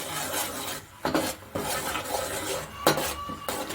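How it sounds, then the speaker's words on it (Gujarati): Red chilli powder, turmeric and spice masala are stirred into an undhiyu vegetable mixture in a pot, making close scraping and rasping spoon strokes with occasional metallic clinks, steady and alone. "હવે તેને આપણે સારી રીતે મિક્સ કરી લઈશું."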